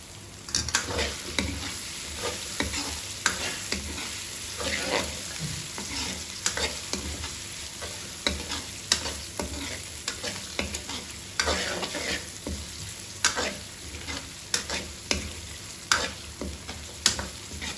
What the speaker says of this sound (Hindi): गोश्त को अच्छी तरह से फ्राई करना है।